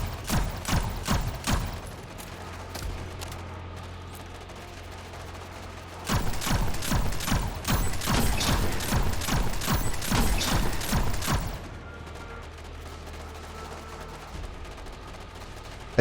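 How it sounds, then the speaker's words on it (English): Polaris Lance shots fired in Destiny 2 during a Grandmaster Nightfall strike against an unstoppable Incendior: loud sharp reports in irregular bursts, a sparse run early, then a rapid dense volley, over low game ambience. "Since I'm using Polaris Lance, which effectively has infinite ammo, I can just keep spamming shots at the unstoppable Incendior."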